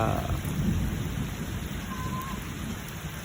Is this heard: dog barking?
no